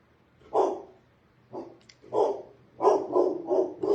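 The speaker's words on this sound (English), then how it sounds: "That's Hero the dog" A dog barks protectively indoors, giving five or six sharp, moderately loud barks in irregular bursts with short gaps, no talk over them.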